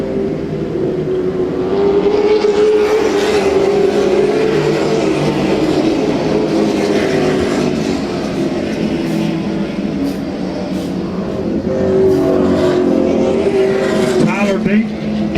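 Race trucks racing at Hickory Motor Speedway, engines droning steadily near and far with rising and falling pitch as trucks circle the track, under continuous announcer talk.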